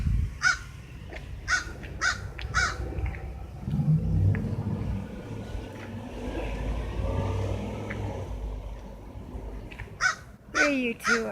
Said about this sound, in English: I love all of you crow birds and ravens.